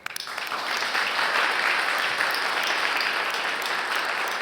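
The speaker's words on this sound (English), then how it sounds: "the panelists a round of applause." Sustained audience applause from a conference crowd honoring a technology panel, rising quickly and holding steady as a dense wash of clapping with no talk over it.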